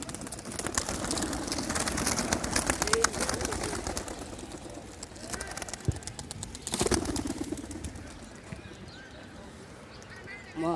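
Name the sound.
released pigeons flapping and cooing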